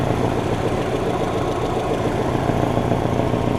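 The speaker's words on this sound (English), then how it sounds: "if I was hearing the exhaust leak." A steady 1998 Subaru Forester engine idles close by with an exhaust leak, a continuous low rumble with a faint, uneven puffing texture running through it.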